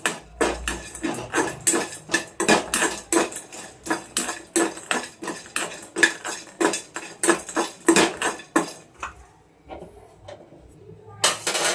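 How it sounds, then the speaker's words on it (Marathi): Nutmeg and whole spices are dry-roasted in a pan over low gas, making repeated close rattling clatters in an uneven rhythm, with a short lull near the end before one more clatter. "एकदम मंद गॅसवर व्यवस्थित भाजून घ्यायचं"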